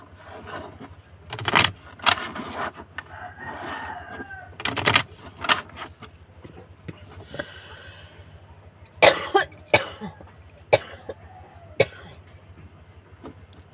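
Repeated coughing from a person with a sore throat and a cold, several harsh bursts spread across the clip, close and fairly loud with quiet room noise between them.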